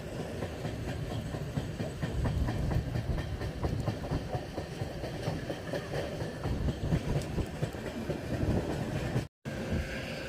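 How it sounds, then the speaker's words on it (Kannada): A passenger train on the Madgaon to Hubballi line runs through a station without stopping, heard from on board as a loud, steady rumble with rhythmic wheel clatter and a brief cutout near the end. "ನಮ್ಮ ಟ್ರೈನ್ ಈಗ ದೇವರಾಗಿ ರೈಲ್ವೆ ಸ್ಟೇಷನ್ನ ಸ್ಕಿಪ್ ಮಾಡ್ತಿದೆ"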